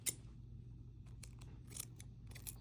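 Small pieces of masking tape are torn off a roll while building a homemade LED flashlight, giving several quiet, close, crisp ripping bursts separated by short pauses.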